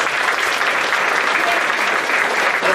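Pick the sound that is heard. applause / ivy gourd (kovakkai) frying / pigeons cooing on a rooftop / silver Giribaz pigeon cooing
applause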